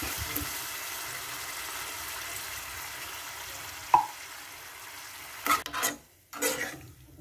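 Corned beef sautéing in a pan, a soft continuous sizzle with a sharp metallic clink midway and a few louder scraping stirs near the end.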